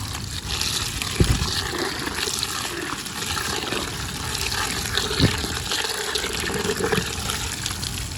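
Water runs steadily and close by as freshly harvested Tanner's cassia flowers are washed. The splashing stream is continuous, with a few brief louder splashes and no talking.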